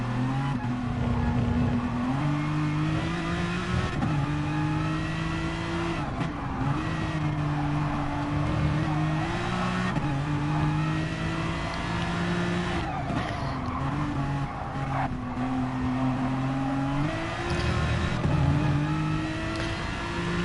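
Race cars at Fuji brake hard and accelerate, engines droning and shifting pitch up and down steadily under continuous commentary.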